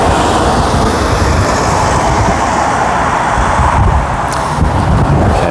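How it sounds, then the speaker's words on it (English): A train from High Wycombe bound for Claremont pulls into Loch Street station in Karrakatta, a loud, continuous broadband rumble and rush of rail noise filling the whole stretch without talk. "the train from High Wycombe rather"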